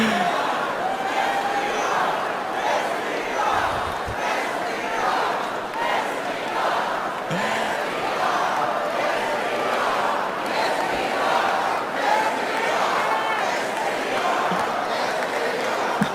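A large crowd at the 2024 Republican National Convention cheers and roars, a loud, sustained wall of voices filling the hall without letup.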